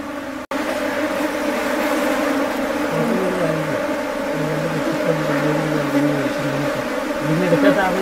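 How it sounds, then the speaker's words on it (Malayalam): A swarm of giant honey bees buzzes around their hive, a dense, steady droning hum that carries on without a break from start to finish, loud and close. "വളരെ അപകടകാരികളായ വൻതേനീച്ചകളാണ് ഇവിടെ ഉള്ളത്"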